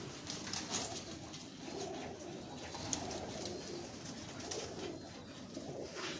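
Pigeons on a rooftop loft in Karachi, among them a crossbred hen, coo in a steady, continuous low murmur that stays fairly soft and close throughout, with no talking.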